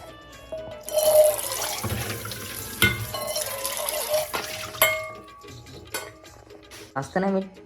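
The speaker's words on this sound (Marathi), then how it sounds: "बॉईल करण्यासाठी हा भांडा घेतलेला आहे. त्याआधी पहिलं त्याला वॉश करू." Tap water runs into a metal pot as it is rinsed and scrubbed, with clanks and splashes close by and brief speech between.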